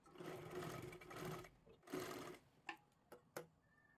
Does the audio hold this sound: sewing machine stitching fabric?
yes